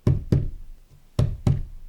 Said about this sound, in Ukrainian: ваш дух має постукати двічі по столу